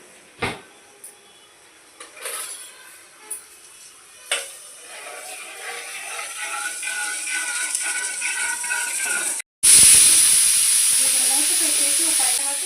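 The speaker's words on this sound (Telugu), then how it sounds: "కుక్కర్ విజిల్స్ వస్తున్నాయండి" Pressure cooker on a kitchen stove while beerakaya pappu, ridge gourd dal, cooks; a few soft clatters give way to rising steam, then a loud, sustained whistle and hiss that fills the last few seconds.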